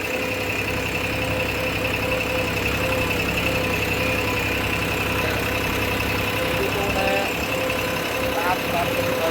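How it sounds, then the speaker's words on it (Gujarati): A tractor runs in a farm field, giving a steady, continuous engine drone that holds at one level for the whole stretch, heard at a distance with a few faint other sounds over the top. "એ બાજુ ખેતરમાં ટ્રેક્ટર પેન ચાલુ છે"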